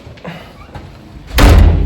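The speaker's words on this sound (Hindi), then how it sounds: "ये लगा दिया दरवाजा।" A door slams shut with a single loud, heavy thud after a few quieter knocks and shuffles, at home after a grocery run.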